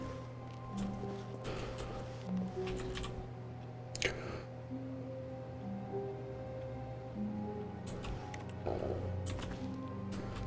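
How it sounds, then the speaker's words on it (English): Soft keyboard typing clicks in the video game The Stanley Parable come in short scattered bursts over a steady low office hum, quiet and close. "When I click, it sounds like typing."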